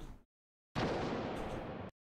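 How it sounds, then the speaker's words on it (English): A rifle gunshot tail sound effect for the Apex Legends Triple Take: a short thump, a pause of silence, then a loud, broad blast that rumbles and decays over about a second before cutting off cleanly. "We have the actual gunshot tail,"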